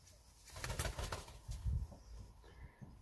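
Pigeons being handled give soft, low cooing in short bursts, with brief flutters of flapping wings close by and no talking.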